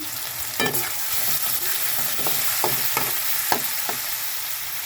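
Monggo (mung beans) with tinapa (smoked fish) stirs and fries in a pan, a steady sizzle running throughout with repeated scraping strokes of a utensil at an uneven pace, close and fairly loud with no talk.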